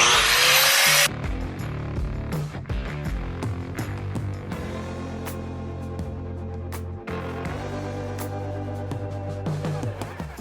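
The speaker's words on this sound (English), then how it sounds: "We're just gonna take a grinding disc and clean those up to where it's flush" Grinding disc used to grind rivets flush on a steel plate under a leaf spring hanger. It opens with a brief high-pitched whine, then gives a steady low mechanical grinding with scraping bursts throughout.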